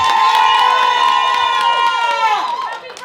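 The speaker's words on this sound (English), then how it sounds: "Give her one more round of applause." A lively comedy club crowd cheers and whoops loudly, rising voices sliding downward in excited yells, fading slightly at the end.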